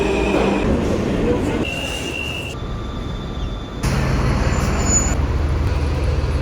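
Rumbling New York City subway station ambience with a train running, steady loud low roar with shifting squeals and tonal whines, a sudden surge partway through, continuous throughout.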